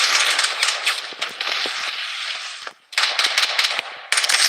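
Rapid bursts of automatic gunfire in the battle royale video game Blood Strike, loud and close, firing in rattling strings separated by brief pauses.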